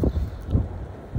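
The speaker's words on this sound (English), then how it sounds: "it's pretty windy out here today" Wind buffets the microphone outdoors in low, gusty rumbles, fairly loud and uneven over a short stretch.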